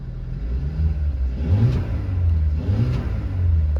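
A 2021 Mercedes-AMG CLA35 4MATIC with a four-cylinder engine revs loudly up close, two rising pulls of deep engine roar over a steady rumble, with no talking.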